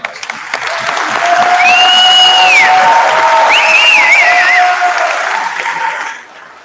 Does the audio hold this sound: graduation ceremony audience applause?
yes